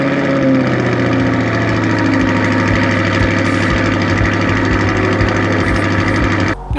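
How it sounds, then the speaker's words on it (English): Stock exhaust on a 2021 Chevrolet C8 Corvette during a cold start, a loud steady high-idle drone with deep harmonic rumble that holds nearly the whole time and then drops away abruptly at the very end. "Let's see what a cold start sounds like on my wife's 2021 C8 Corvette"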